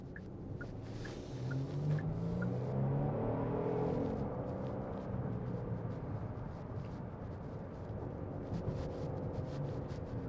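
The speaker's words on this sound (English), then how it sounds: "I love the sound, the throaty nature coming from underneath the hood here." Genesis GV70 3.5T Sport Prestige twin-turbo engine heard from the cabin while driving, a steady throaty drone that rises and falls slightly through the whole stretch, fairly faint and without talk.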